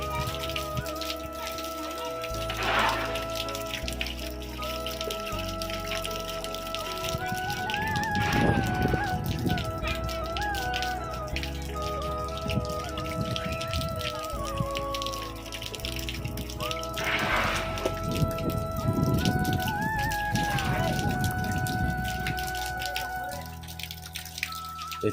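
Heavy rain pours on a village in Odisha, a constant hiss of drops and splashing water running throughout, with sustained musical tones playing over it.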